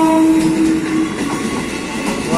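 A KRL commuter train pulls in with a loud steady rumble and rattle of the cars, and a sustained horn tone sounds at the start, close by with no talk.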